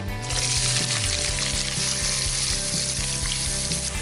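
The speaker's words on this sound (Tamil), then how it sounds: "வெங்காயம் வதங்கிருச்சு" Large onions sizzle steadily as they sauté in a hot frying pan for chicken vada curry, a constant close crackling with no voices.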